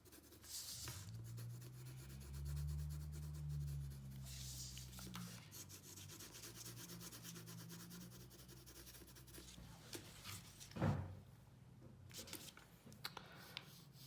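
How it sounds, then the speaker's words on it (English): Black colored pencil shading on paper, a soft continuous scratchy rubbing with brief pauses and a sharper stroke near the end, close and quiet. "you can use a black color pencil and you can add"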